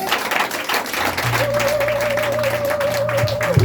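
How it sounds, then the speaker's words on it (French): Church congregation applauds at a worship service, a steady wash of clapping and crowd noise with sustained tones from instruments or voices running underneath. "Remercie-le en acclamant."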